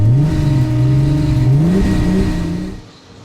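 Tuned Volkswagen Golfs, a 600 bhp Mk2 G60 Rallye and a 500 bhp Mk8 Golf R, rev at the drag race start line, a loud, close engine note rising and falling in pitch before dropping away at the end.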